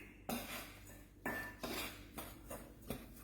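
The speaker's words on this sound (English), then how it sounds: "I'm just using a spoon here, just stir it around and get that ready." A spoon stirring golden syrup into a dry Anzac biscuit mixture in a bowl, several distinct scraping clinks and knocks spaced irregularly, close and fairly quiet, no talking.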